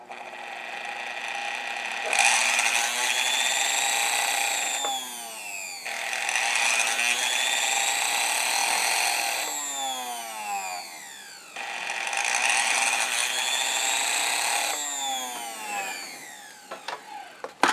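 A rewired Westinghouse sewing machine motor runs under test on a motor controller, whining up in speed and winding back down three times in a row, loud and close, with no talking.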